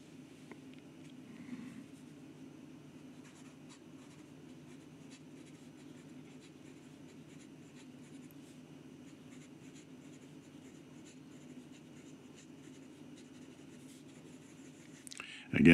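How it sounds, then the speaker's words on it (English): A Fuliwen 2037 steel-nib fountain pen writes quickly on paper, giving a faint, steady scratchy scritch that continues without a break, with no talk until a loud bump at the very end. "And as to some quick writing,"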